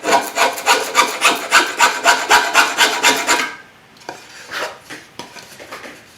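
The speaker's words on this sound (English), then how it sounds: "Here I'm just hogging out some of the volume of wood." Hand-carving wood for a custom Rosa mandolin, rhythmic rasping strokes repeating about twice a second, loud and close, then quieter scattered scraping.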